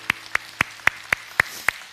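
A Korean church congregation claps in unison during a Sunday service, eight crisp, evenly spaced claps at a quick, steady beat over a quiet room.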